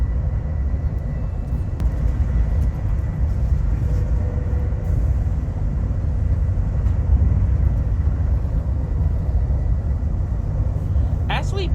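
Steady low rumble of an Amtrak high-speed train running at about 135 mph, continuous and loud with a constant roar throughout.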